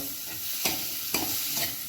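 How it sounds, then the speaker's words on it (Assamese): Mustard seeds fry in oil over low heat, sizzling steadily in a pan with a soft crackle, broken by a few louder scraping stirs. No one speaks. "এয়া অকণমান চিমত ভাজি ল'ম।"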